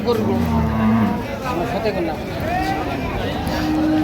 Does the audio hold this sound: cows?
yes